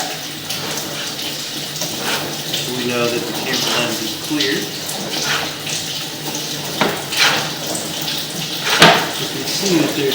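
Running water flows steadily through a sewer pipe camera setup during an inspection, a continuous wash of noise with clattering bumps, while someone talks over it.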